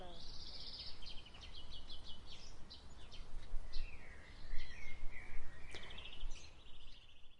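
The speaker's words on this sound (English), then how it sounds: "It's all the birds singing." Birds singing in a morning chorus, several chirping, trilling calls at moderate distance over a steady background hiss, some bursts near and bright, with no voices.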